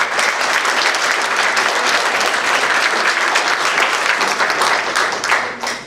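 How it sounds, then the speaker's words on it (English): Audience applause at a community meeting on burglaries in Millbrae, a loud, dense crowd clapping that holds steady for several seconds before tapering slightly at the end. "we should give a applaud to these fine men and women"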